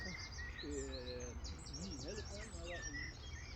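Small birds chirp and twitter in a garden park, high quick calls scattered throughout, moderately close, over a low background hum with faint sounds beneath.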